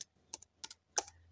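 A few separate clusters of keystrokes on a computer keyboard as search words go into a browser, close and crisp, spaced by short pauses with no talking.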